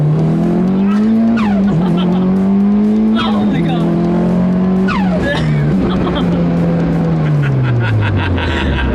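A turbocharged Mitsubishi Evo 8 pulls at full throttle, its engine droning loud and close from inside the car while pitch climbs and dips, with turbo whooshes and sharp chirps layered on top.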